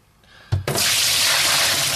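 Water gushes into a bucket for home brewing beer, starting with a sudden splash and settling into a steady, loud, close pouring rush that continues to the end.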